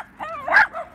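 A dog gives a short burst of high, excited yips and whining barks, close and fairly loud, lasting about a second.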